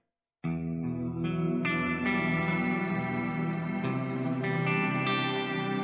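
Electric guitar run through an ambient reverb setting on a Tank G multi-effects unit, playing sustained chords that swell into a dense, washy wash of reverb and trails, loud and continuous with no talking.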